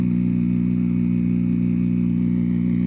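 Rally car engine in a forest stage holds a steady, droning mid-pitched tone, loud and continuous with no breaks or voices.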